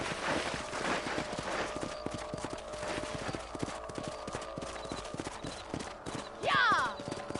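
Horses trotting in Red Dead Redemption, a steady rhythmic clip-clop of hooves on open range, with voices talking over it and a horse's whinny near the end.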